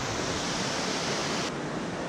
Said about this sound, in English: I can just see the water fall down through the trees, and you might be able to hear it.